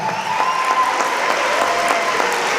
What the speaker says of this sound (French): on peut encore faire un tonnerre d'applaudissements à Eduardo Barreto et à tous les Mexicains